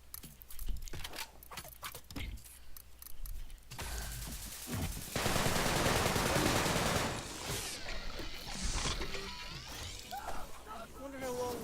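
Bursts of rapid automatic gunfire from a weapon in a video game, sharp repeated shots in dense volleys mixed with mechanical clicks and clatter, fairly close and loud.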